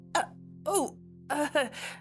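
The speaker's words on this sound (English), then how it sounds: "With a loud cough, you grab his attention" A few short, rough coughing bursts, loud and close, separated by brief pauses over a steady low hum.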